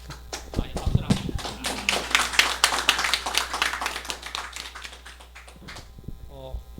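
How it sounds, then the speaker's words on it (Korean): A small church Bible-school gathering claps in distinct, sharp strikes with an audible rhythm, fading out before a voice speaks briefly at the end over a low electrical hum. "박수를 합니다."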